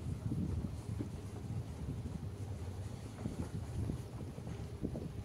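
Cold wind blows through the Buxa Tiger Reserve forest, a low, gusty rumble buffeting the microphone without a break, fairly quiet overall.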